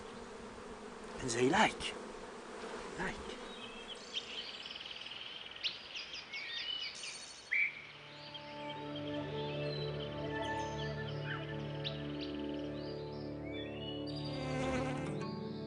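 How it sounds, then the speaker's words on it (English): Honeybees buzzing in a steady droning hum that builds and holds, starting after some scattered handling noises and a few faint words. "the honeybee was considered a sacred animal"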